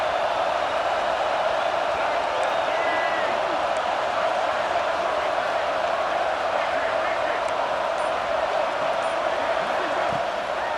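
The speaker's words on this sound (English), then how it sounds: "Third down, red zone play, crowd alive." Stadium crowd noise in EA Sports College Football 26 during a third-down red zone play, a loud continuous roar of cheering fans that holds steady throughout under a faint commentary voice.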